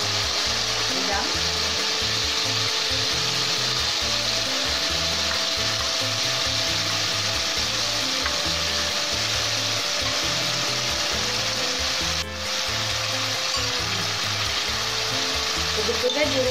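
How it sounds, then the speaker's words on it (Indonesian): Prawns dropped into sizzling sambal in a hot pan give a steady, loud frying hiss throughout, with occasional stirring scrapes and a brief dip midway. "Sekarang kita boleh masukkan udang."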